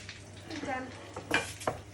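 Homemade fishcakes made from tinned mackerel frying in plenty of oil in a pan, a steady close sizzle with a couple of sharper crackling bursts as they brown.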